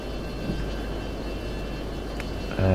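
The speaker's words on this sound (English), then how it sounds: "it's a MiG-21 just behind us" A MiG-21 jet in the flight game F22 Total Air War gives off a steady, loud engine roar that holds constant throughout, with a slight swell near the end.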